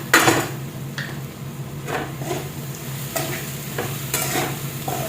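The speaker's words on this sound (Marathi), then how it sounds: "मीठ टाकून चांगलं परतून घेतो।" Green chillies and salt stir-fried in hot oil for sabudana khichdi sizzle steadily, while a spoon scrapes and taps the pan every second or so, close and clear, with no talk.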